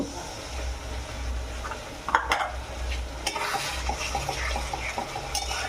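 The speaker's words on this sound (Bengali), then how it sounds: "তো এটাকে আমি খুব সুন্দরভাবে এখন কষাবো যতক্ষণ না পুরোপুরি তেল ছেড়ে যাচ্ছে মশলা থেকে" Chicken stirred and frying in a pan with ginger garlic paste: a continuous close sizzle with repeated scraping stirs and a few sharp clinks of the spoon against the pan, no voices.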